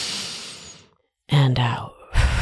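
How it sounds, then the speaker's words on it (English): A single deep inhalation drawn in near and clearly, following a softer breathy stretch and a brief silence, with voiced sound after it. "Deep breath in"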